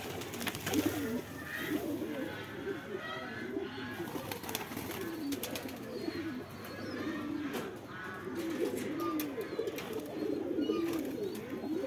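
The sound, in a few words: pigeons cooing on a rooftop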